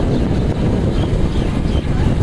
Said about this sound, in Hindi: मोटरसाइकिल का शोर ज़्यादा आता है